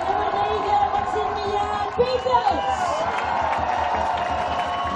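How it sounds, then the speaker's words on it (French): A crowd of supporters of both teams applauds and cheers steadily throughout a hockey playoff final between Waterloo Ducks and Dragons, a dense roar kept up under continuous commentator speech. "Applaudi par les deux équipes et leurs supporters."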